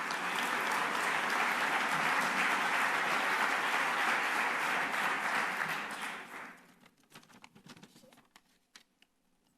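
Sustained audience applause for the rector of UNIR, the Universidad Internacional de La Rioja, at a formal event in La Rioja, loud and dense for about six seconds before fading to a few scattered claps.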